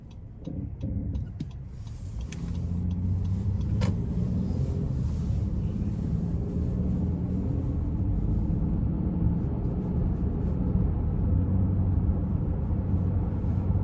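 A 2017 Honda Ridgeline RTL with about 118K miles accelerating in Econ mode, a steady low engine and road drone that swells after a couple of seconds and holds, with a few faint clicks at the start.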